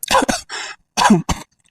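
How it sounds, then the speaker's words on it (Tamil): Several harsh, close coughs come in quick bursts, a short pause, then two more rough coughs. "சத்தியமா சிரிக்கல, இருமல் வருது"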